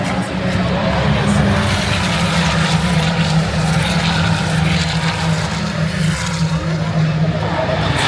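Ferrari Challenge race cars at the Suzuka circuit during the Japanese Grand Prix weekend, a steady loud engine drone from cars passing continuously at a distance, with crowd and ambient noise mixed in.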